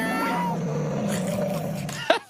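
People mimic cat meows and yowls with their voices, drawn-out wavering cries ending in a short sharp burst, close and fairly loud.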